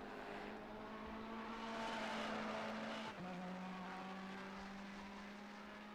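A Ferrari race car at Kyalami in the Assetto Corsa Competizione video game holds a steady, high engine whine with a brief downshift dip midway, close and loud, with no voices.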